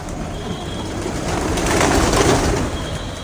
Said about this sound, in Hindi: पूरी कबूतर आ गई यहाँ पे।